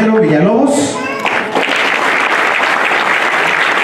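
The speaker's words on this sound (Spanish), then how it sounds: "que le demos un fuerte aplauso" Audience applause breaks out at a political gathering, loud and sustained after a brief stretch of voices, filling the rest of the moment with dense clapping.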